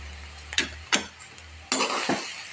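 Carrot palya being stirred in a pan: a few distinct scraping strokes of a spoon against the pan, with a soft sizzle of the vegetables underneath that turns brighter and louder partway through.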